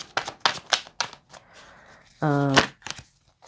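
Angel Tarot cards are riffled and handled during a reading: a quick run of papery flicks and taps, close and fairly soft, followed by a brief buzzing rattle.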